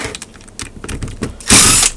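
Ratchet tools and bolts being worked loose while an Emotator 1102 antenna rotator is stripped down, giving close, irregular mechanical clicks and clatter that end in a loud, harsh burst of noise.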